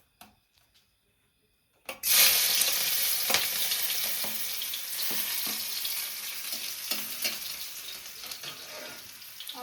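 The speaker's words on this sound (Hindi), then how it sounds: "तो अब मैं तड़का लगा देती हूँ" Garlic hits hot oil for a tempering, starting with a sudden loud sizzle after a quiet moment, then a steady frying hiss with occasional stirring clicks and scrapes.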